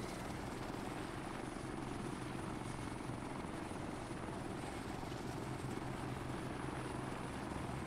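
Steady, continuous helicopter rotor and engine drone from the Arma 3 video game, holding a constant level for the whole stretch with no voices over it.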